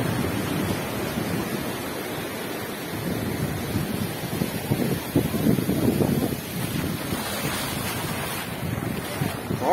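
Ocean surf washes up at Quatro Ilhas beach in Bombinhas and runs over someone's legs, heard as a hissing wash of water beneath heavy wind buffeting on the microphone.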